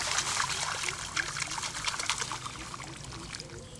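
Water pours and trickles as soil is rinsed off the roots of a rice plant pulled from a paddy field, a continuous splashing wash outdoors with faint voices in the background.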